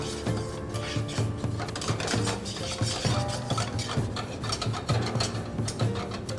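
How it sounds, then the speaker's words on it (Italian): Pasta con le sarde is tossed and stirred with olive oil in a pan, giving a steady, close scraping and rubbing texture that carries on throughout with small clinks. "Mantechiamo con un filo d'olio."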